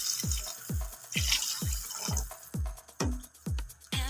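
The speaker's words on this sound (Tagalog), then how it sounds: "So ngayon lalagyan na natin ng sabaw" Rice-wash water broth poured into a pot for pork sinigang: a steady, rhythmic glugging of liquid with repeated splashy drops, close by and moderately loud.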